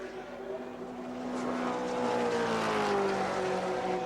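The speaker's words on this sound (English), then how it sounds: "Braking duel, Holden Commodore, BMW, Jim Richards on the outside" A 1984 Holden Commodore and a BMW touring car on the Symmons Plains circuit, their engines droning loud and close with falling, shifting pitch as they brake into a corner, with steady engine noise throughout.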